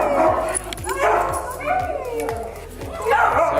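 A dog yips and whimpers in short bursts that rise and fall across the moment, fairly close, with a voice speaking over it and a steady low rhythmic hum underneath.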